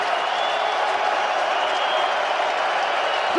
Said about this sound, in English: Good crowd here at the Coliseum urging on this defense